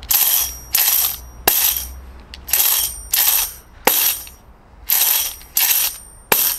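Short bursts of bright, rattling shaker sounds in a steady pattern, several groups with brief gaps between, played alone and fairly close.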